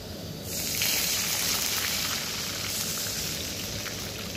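Water pours in a steady rushing stream into a hot pan of fried onions, with a hissing sizzle underneath.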